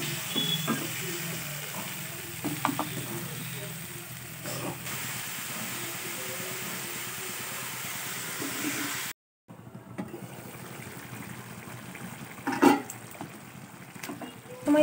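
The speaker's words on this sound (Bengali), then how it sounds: "ওই তেলে আমি দিয়ে দিলাম চিকেন, চিকেনটাকে আমি ভালো করে নাড়িয়ে নেব" Marinated chicken frying in hot oil, a steady close hiss and sizzle for several seconds, a brief cut to silence, then quieter sizzling with occasional clinks from stirring.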